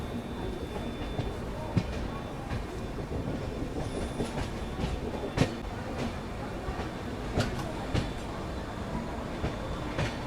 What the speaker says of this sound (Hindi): प्लेटफॉर्म नंबर 3 पे आ चुकी है new Delhi सौगरिया intercity superfast express